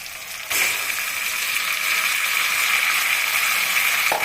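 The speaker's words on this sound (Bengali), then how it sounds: "কচুর শাকটা দিয়ে একটু নাড়াচাড়া করে মেশাবো ভালো করে।" Taro greens being stirred into frying shrimp and softened onion in a pan, a steady bright sizzle that jumps louder after a half-second quieter start and holds continuously, with no talking.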